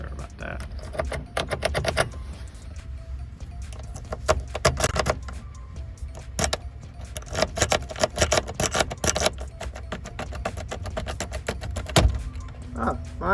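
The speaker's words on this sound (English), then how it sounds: "So the key was kind of stuck in the ignition, like it goes in but it does not want to come out." A key jiggles and rattles in the stuck ignition of an old, dusty 1987 Suzuki Samurai, a series of sharp metallic clicks and jangles in irregular bursts, close and moderately loud, with someone talking between them.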